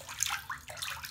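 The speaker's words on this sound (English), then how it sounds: "I've got a lot of water in the tub this time." Bathwater with a bath bomb dissolving in a well-filled tub swishes and splashes in short close bursts, alone with no voices.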